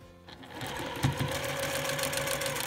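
Sewing machine stitching two Dresden plate quilt pieces together, a close, continuous rapid whirring hum that starts up and runs steadily without pause, with no talking.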